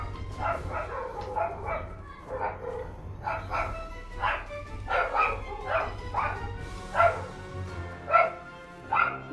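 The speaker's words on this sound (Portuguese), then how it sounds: "Ó, cachorrada, velho." Dogs barking in the online survival game Rust, a run of repeated yapping barks and whimpers at moderate distance with a steady low hum beneath, growing louder toward the end.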